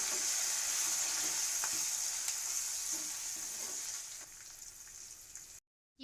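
Curry leaves sizzle in hot oil in a frying pan, stirred through a seasoning for pulihora; steady close frying hiss with a few soft spoon knocks before the sound cuts out.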